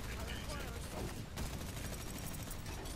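Dense, continuous gunfire from an Overwatch Mystery Heroes match roars throughout, rapid overlapping shots with no break, while a player's voice talks over it.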